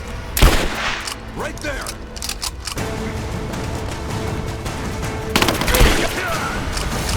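Gunfire bursts in the Rise of the Tomb Raider video game, loud sharp cracks near the start and again near the end, with a steady rumble of battle between and a voice shouting briefly.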